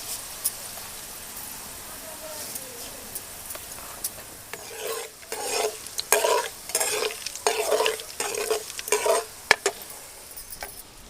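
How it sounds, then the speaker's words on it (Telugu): Cumin, mustard and fenugreek seeds frying in a pan for garlic chutney tempering, stirred in quick repeated scraping strokes over a steady sizzle, close and fairly loud, with a voice occasionally heard. "దీంట్లోనే కొంచెం జీలకర్ర ఇవన్నీ మంచిగా గోలే కనుక ఇట్లా కలుపుకుందాం మాడకుండా"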